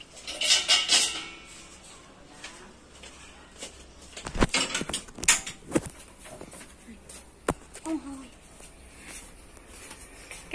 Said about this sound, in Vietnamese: Để mình đi chuẩn bị cái chảo nha.